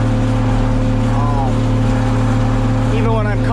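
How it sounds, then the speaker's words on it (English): A John Deere 2520 tractor cutting thick hay in a field, its engine droning in a steady, loud, even hum throughout with a few brief higher whines riding on top. "I am not used to cutting hay with this tractor."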